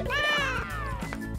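A pet cat meows in one long, drawn-out call that bends downward in pitch, close and fairly loud, with a few short thumps and household noise underneath.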